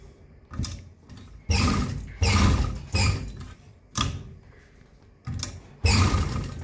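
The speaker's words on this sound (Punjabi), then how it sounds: "ਹੁਣ ਮੈਂ ਇਹਨੂੰ ਮਸ਼ੀਨ ਦੇ ਨੀਚੇ ਰੱਖ ਕੇ ਤੁਹਾਨੂੰ ਸਿਲਾਈ ਵੀ ਲਗਾ ਕੇ ਦਿਖਾਉਣੀ" A sewing machine stitches cloth for a gatra sahib, the strap for a Sikh kirpan, running in several short, loud mechanical bursts with brief pauses between runs.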